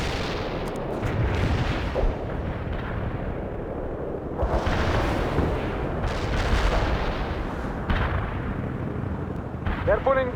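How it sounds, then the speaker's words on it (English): An artillery barrage in the war video game World in Conflict, with heavy booming blasts and rumbling detonations overlapping in a dense, continuous roar. Voices talk over the shelling. "Artillery strike on the way. Commencing the barrage."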